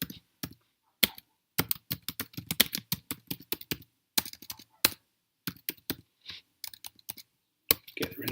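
Someone types a page description on a computer keyboard in irregular bursts of crisp, close key clicks, separated by short silent pauses.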